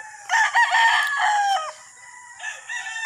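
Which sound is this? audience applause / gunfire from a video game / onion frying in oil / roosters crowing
roosters crowing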